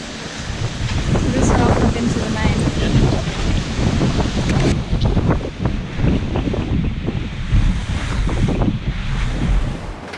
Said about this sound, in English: Because it is windy,